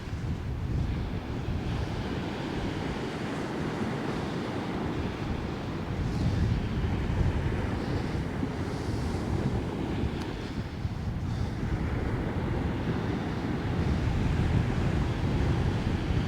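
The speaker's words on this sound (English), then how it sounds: "That's got to be wind." Strong wind buffets the microphone on the beach at Sutton on Sea, a loud, continuous roar blended with the rush of surf that rises and falls in gusts throughout, with no one talking.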